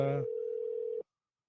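A single telephone tone, steady and clear, follows a short burst of talk and holds for about a second before cutting off abruptly into silence.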